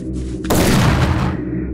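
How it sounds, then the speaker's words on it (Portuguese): A loud, close shotgun blast, a single sharp boom with a heavy rolling tail that lingers and fades, cutting in suddenly over a quiet bed of low ambient sound. "Rapidamente pegou a sua espingarda e viu 3 seres vindo em sua direção, correndo."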